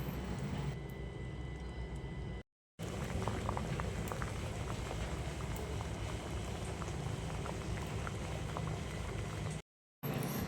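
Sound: coconut milk and mung bean stew boiling in pot

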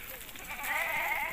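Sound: sheep and goats bleating in a Himalayan herd

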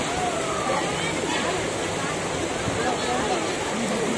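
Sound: rushing floodwater

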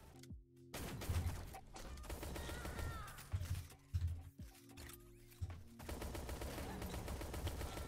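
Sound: buck pistol gunfire in the video game Shell Shockers

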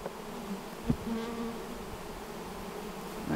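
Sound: honey bees buzzing

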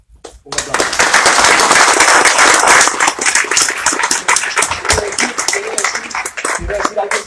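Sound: audience applause

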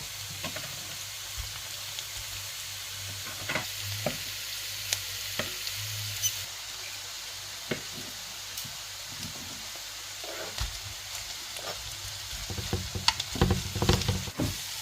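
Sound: potatoes frying in a pot

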